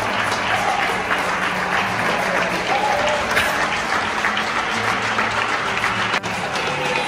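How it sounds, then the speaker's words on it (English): Crowds in Spanish streets and apartment windows clap and cheer during the coronavirus lockdown, a sustained wash of distant applause echoing between buildings with occasional cheers. "suddenly everyone in the streets and their houses is clapping and cheering"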